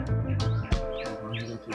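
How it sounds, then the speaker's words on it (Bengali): Several birds chirp and call in short, repeated bursts at a forest riverside resort, Satkosia Sands at Badmul, near a children's play area. The calls are fairly close and clear, with no one speaking. "পাখির ডাকটাও বেশ শুনতে ভালো লাগছে।"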